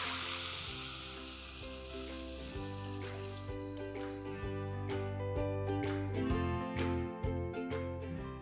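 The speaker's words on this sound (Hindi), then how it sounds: "सिर्फ 1 मिनट के लिए इसे मीडियम फ्लेम के ऊपर हम भूनेंगे तो ये अच्छे से क्रिस्प हो जाते हैं" Makhana (fox nuts) roasting in a pan on a medium flame give a steady, close crackling sizzle that runs throughout, with sustained musical tones playing underneath.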